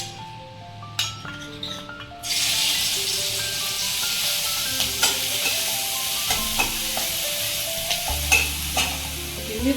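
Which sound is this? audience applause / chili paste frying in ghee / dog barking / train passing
chili paste frying in ghee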